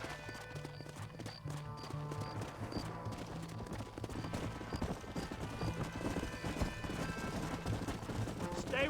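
Horse hooves clip-clopping at a gallop in Red Dead Redemption, several horses running together under a dense game score with occasional voices and distant gunfire, steady and continuous throughout.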